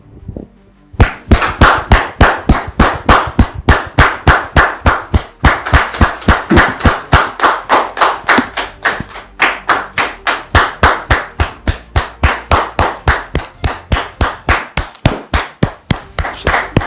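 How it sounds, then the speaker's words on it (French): Rhythmic, evenly spaced clapping from an audience welcoming a guest, sharp loud claps in a steady beat that continues for the whole stretch, close and dry with almost no talk. "je voudrais vous demander de recevoir sous vos applaudissements"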